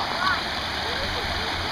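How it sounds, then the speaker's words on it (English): A smooth 165-foot waterfall in the Finger Lakes cascades over rock, giving a steady, rushing wash of falling water that holds at an even level throughout. "Now this smooth waterfall cascades down 165 feet of rock."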